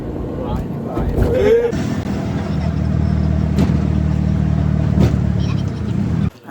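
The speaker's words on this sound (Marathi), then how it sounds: "ही आमची रिक्षा." Auto rickshaw engine running steadily as the vehicle drives along, a mid-pitched droning motor with occasional revs, while people talk over it throughout.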